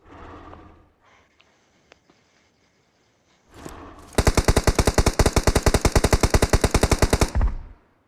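Video game gunfire: after quiet shuffling, a rapid automatic burst of evenly spaced, loud shots runs for about three seconds, close and sharp.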